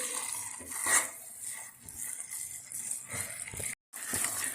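Carrot halwa is stirred and roasted in ghee in a pan, with steady scraping and clattering of a spoon against metal and a faint sizzle underneath.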